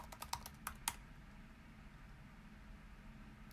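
A password is typed on a computer keyboard: a short burst of about six quick, light key clicks close by, then only a low steady room hum.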